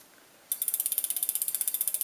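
A bolt on a bicycle hydraulic disc brake caliper is tightened with a ratchet tool, giving a quick, even run of about twenty close clicks that starts abruptly after a short quiet moment.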